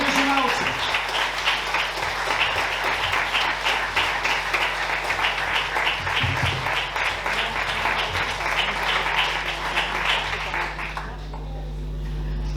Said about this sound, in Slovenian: torej dajmo še en aplavz za vedeževalce